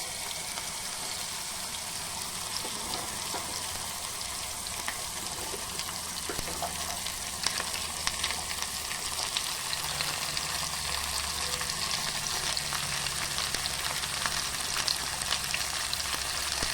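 Okra and green beans frying in a pan, a soft, steady sizzle with faint crackles and scattered stirring clicks, heard close and alone without talk.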